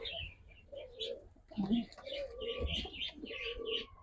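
Black checker racer pigeons coo softly in repeated low calls mixed with chirps, close and faint, while a person talks among the birds.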